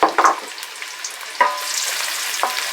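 Celery, carrots and shallots hitting a hot pot at medium-high heat: a few sharp stirring clatters over a soft, steady sizzle, close and without talk.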